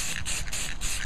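Gray spray paint hissing in short bursts from an aerosol can onto cheap table legs, close and fairly loud, with brief gaps between passes.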